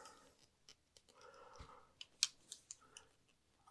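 Scissors cut through a motorcycle air cleaner hose, giving a few quiet snips and clicks with one sharper snip near the middle. No one speaks.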